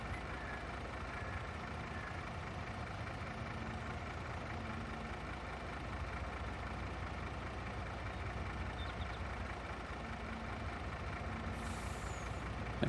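Steady broadband rumble of a tractor engine idling while a trailer offloads in Farming Simulator 22, continuous and fairly loud throughout, with a faint hiss of an air brake near the end.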